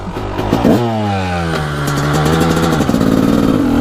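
A Honda CR250 two-stroke dirt bike engine revs loudly up close, pitch climbing and dropping through several throttle blips with a steady buzzing drone between them.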